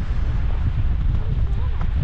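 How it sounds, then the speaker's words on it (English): Strong wind on Iceland's south coast buffets the microphone in a steady low roar, with a faint voice barely audible underneath. "it's very windy over here"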